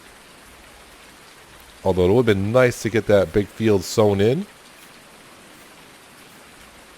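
Steady rain hissing in Farming Simulator 19, constant from start to finish, with someone talking over it for a few seconds in the middle.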